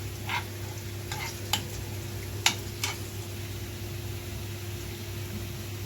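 Garlic frying in a pan as a splash of vinegar goes in: a steady, soft sizzle with a few sharp crackling bursts, moderately close and without talk.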